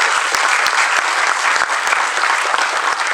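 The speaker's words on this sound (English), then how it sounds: "Have a round of applause for him, please" An audience at a school science seminar applauds the Dean of Academics, steady dense clapping from a crowd filling the room, loud and continuous with no talk over it.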